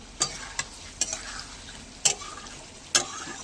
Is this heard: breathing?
no